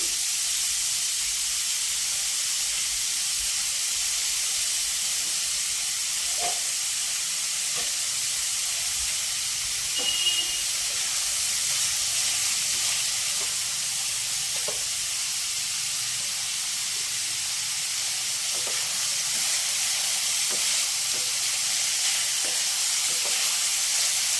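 Onion and curry leaves fry in a pan with a loud, steady sizzling hiss and occasional small pops, continuous throughout and heard close up without voices.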